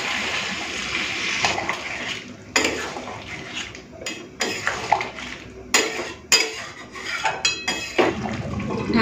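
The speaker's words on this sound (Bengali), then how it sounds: "তো এটা কষা হয়ে গেছে, একটুখানি গরম জল দেবো।" Hot water poured into chicken being cooked in a kadai for biryani, with loud metal clanks and scraping of a spoon against the pan and intermittent splashing, close up with no talk.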